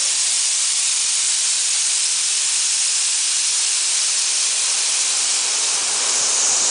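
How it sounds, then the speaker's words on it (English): Compressed air from a pneumatic-spring actuator hisses in a loud, continuous, close-up rush for the full length of the clip, steady and unbroken. "Alright, can you turn off the compressed air?"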